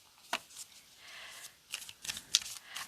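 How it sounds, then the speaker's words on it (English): Archetype cards are shuffled in a quiet room, with several crisp riffles and flicks in quick succession and soft sliding between them. "let's shuffle it up"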